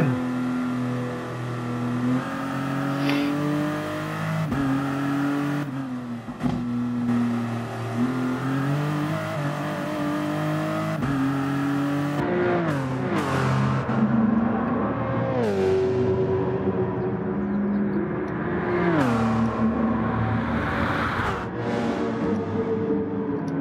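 Race cars in the Gran Turismo Sport video game accelerating hard, loud continuous engine drone rising in pitch through repeated gear shifts, with engines overlapping.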